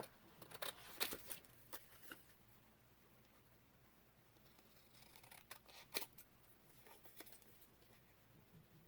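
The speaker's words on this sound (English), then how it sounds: "let me cut that and see if that helps me" Scissors snip through a paper label in two clusters of quick, quiet cuts, close to the microphone and separated by a soft pause, with no talking.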